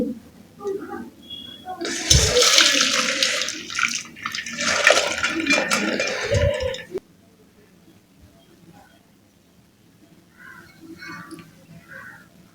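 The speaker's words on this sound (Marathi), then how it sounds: "आपली जी शिजलेली मटकी होती ती आपण याच्यामध्ये स्ट्रेन करून घ्यायची आहे" Cooked moth beans for Kolhapuri misal are drained through a sieve, the cooking water splashing and pouring loudly for about five seconds before stopping abruptly, leaving a quiet kitchen with faint stray sounds.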